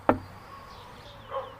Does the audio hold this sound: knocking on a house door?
yes